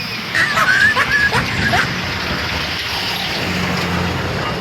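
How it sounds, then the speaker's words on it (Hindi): A vehicle on a road draws closer, its broad engine and tyre rumble building under steady traffic-like noise, with faint dog yips and bow-wows near the start. "ये देखो, गाड़ी आ रही है"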